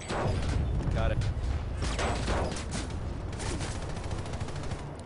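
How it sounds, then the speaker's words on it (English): A Liberator's tail gun firing in Planetside 2: a continuous, rapid stream of gunfire rattling steadily for the whole stretch, with voices talking over it. "Tail gun."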